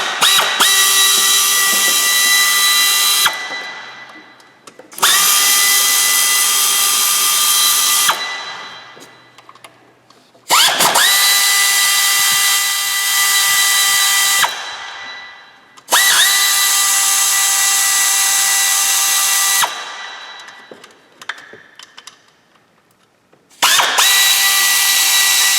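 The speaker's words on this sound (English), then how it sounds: "We're just going to remove the 5 inverted Torx mounting bolts for the filter housing." A power tool removes five inverted Torx mounting bolts from the filter housing of a Jeep Wrangler, whining loudly and close in five long bursts of a few seconds each, every one winding down before the next starts.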